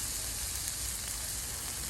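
Soft, steady sizzling of masala thinned with a little water as fish fries on a traditional wood-fired stove, a continuous hiss at low volume with no voices.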